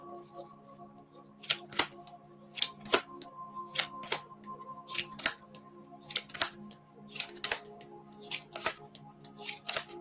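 Tarot cards are shuffled in repeated quick riffling bursts, about eight of them at a steady pace, close and crisp in a quiet room.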